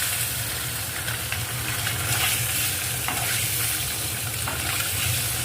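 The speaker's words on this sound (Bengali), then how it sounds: "কড়াইতে তেল গরম করতে দিয়ে দিয়েছে তাতে ভেজে নেওয়া হচ্ছে ডিমকে" Eggs frying in hot oil in a wok, a steady, close sizzle that fills the whole stretch at an even level, with faint scrapes from stirring and no voices.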